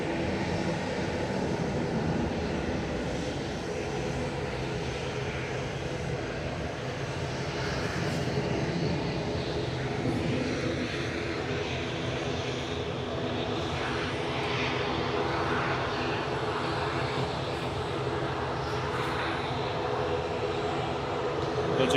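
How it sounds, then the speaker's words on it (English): A Virgin Atlantic A330-300 touches down at Manchester Airport after a flight from Orlando, a sustained, loud jet roar that swells and rolls steadily with no talk over it. "The Virgin just touching down from Orlando."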